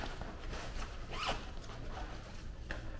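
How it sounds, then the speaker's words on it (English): A small zipper on a compartment organizer pouch is pulled in a few short, quiet scratchy strokes, close by, over a low steady room hum with no talk. "it has little zippers."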